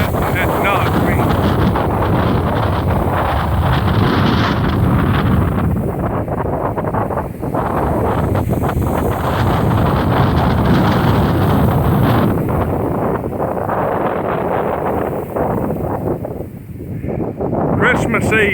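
A strong, gusty windstorm buffets the microphone nonstop with a loud, broad roar that surges and eases in gusts of up to about 45 miles an hour.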